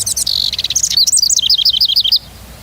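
A bird calls close and clear through a parabolic microphone, giving quick high chirps that run into a fast series of rising and falling notes, then stops abruptly.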